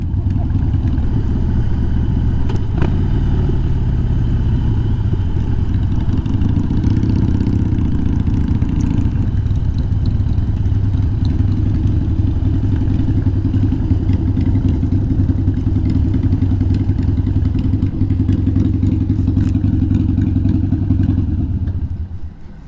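A Harley-Davidson Dyna motorcycle is ridden with a steady, loud, low engine rumble and wind roar that carry through the whole ride, with occasional clatter from the road.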